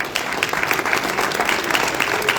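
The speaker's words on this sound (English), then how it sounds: "make sure that we give him a round of applause for their work" Audience applause at a sports association's 50th annual banquet, a steady round of many hands clapping that holds evenly loud for its full short length, with no talk over it.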